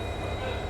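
Mysore–Chamarajanagar passenger train, number 56208, hauled by a WDP-4D locomotive, running steadily with a continuous low rumble and rolling noise, a thin high whine above it, with no distinct events.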